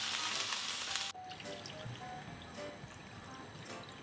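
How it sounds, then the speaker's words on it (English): Black vinegar is poured into a hot pot of pork, giving a quiet hissy splash that cuts off after about a second, followed by soft sizzling and small cooking clicks. "And then you add in the vinegar."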